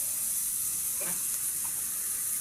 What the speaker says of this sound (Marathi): आणि परत कांदा परतून घेणार आहे त्याला चांगला